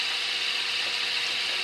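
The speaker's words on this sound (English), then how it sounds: "turn on our drill press, start screwing it in" A drill press boring a center hole through a wooden bowl blank, a steady bright whirring hiss, close and continuous with no pauses.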